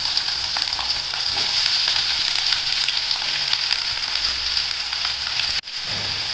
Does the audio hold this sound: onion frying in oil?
yes